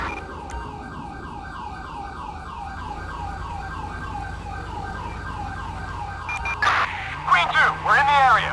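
A wailing, warbling ambulance siren from Grand Theft Auto V cycles steadily up and down. Near the end, voices and radio-style chatter break in over it.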